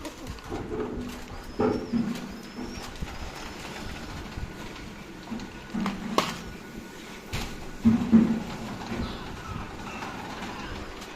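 Pigeons kept in a loft coo softly and intermittently in a few low bursts, set against faint background rumble and scattered knocks.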